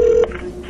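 A single loud, steady telephone keypad tone opens a recorded phone call, lasting a fraction of a second before it cuts to faint line hiss and noise.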